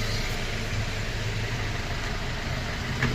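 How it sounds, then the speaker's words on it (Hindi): A Maruti Swift Dzire diesel engine idles steadily just after starting, a continuous low, even rumble nearby with no voices. "बहुत प्यारी स्टार्ट हुई है गाड़ी"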